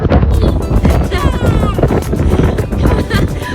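Strong wind buffets the microphone in a loud, constant low rumble, while people talk over it.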